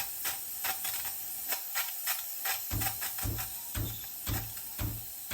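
A clogged Sage espresso machine's steam wand sputtering and hissing up close, with soft steady hiss broken by a rhythmic series of low pulsing bursts and puffs, no talk.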